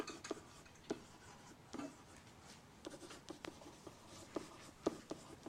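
Pen or pencil writing by hand on paper while working through log equations, with soft scratching strokes broken by sharp taps and ticks, quiet and close, no voices.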